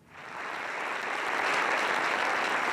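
A large crowd applauds, the clapping swelling quickly from a soft start into steady, dense applause that holds on at an even level.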